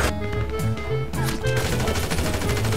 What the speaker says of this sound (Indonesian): Aku nembak